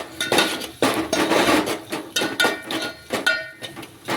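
Bitter gourd sabzi being stir-fried in a pan, with a spatula scraping and clanking against the metal in quick, continuous irregular strokes, close and fairly loud.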